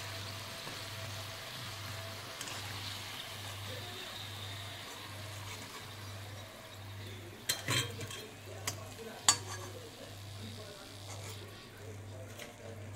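Modak made from maida dough deep-frying in oil on a low flame, with a soft steady sizzle and a low hum underneath, and a few clinks and scrapes of a spoon stirring them partway through.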